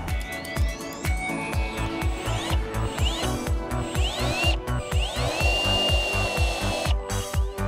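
A power drill whirs steadily and loudly with a rapid repeating grinding pulse as it bores down into lawn soil, its pitch rising and settling.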